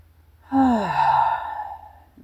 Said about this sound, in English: little bit of breathing, tapping on my chest.